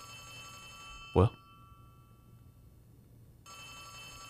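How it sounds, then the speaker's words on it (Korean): A telephone rings in the Poppy Playtime Chapter 3 video game: a single short, loud burst of ringing set against a quiet, steady hum of ambience, with a voice speaking briefly. "이쪽 위쪽에서 지금 전화 소리가 들리는데"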